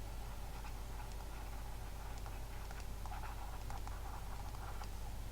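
Marker or chalk writing on a classroom board while mathematical intervals are noted down, giving soft, irregular scratchy strokes over a steady low background hum, with no talking.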